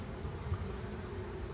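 Honeybees buzz in a steady, dense drone at the entrance of a yellow hive, heard close and continuous with no voices.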